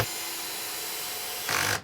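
Power driver sinking wood screws into a door header for a bifold door track: a steady motor whir close by, rising to a louder brief burst just before it stops.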